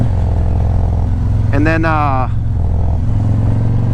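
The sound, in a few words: motorcycle exhaust while riding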